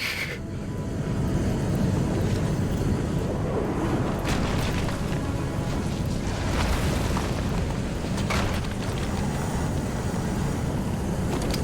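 Grenade blasts in Batman: Arkham City boom loud and heavy, rolling together into a sustained rumble with a few sharper bursts standing out.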